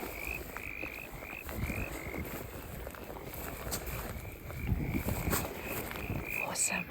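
Small frogs croak in quick, repeating chirps near a rainy wild campsite, sounding moderately close over a steady bed of rain and low rumbling ambience, with no voices.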